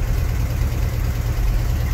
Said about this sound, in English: Fire it up. Runs great.